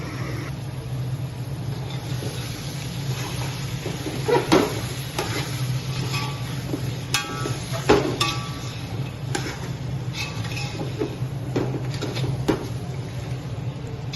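Mundi cooking with onions in a pan for Agri-style dal mundi, frying with a steady close hiss under occasional scraping and clinking of a spatula, continuous throughout.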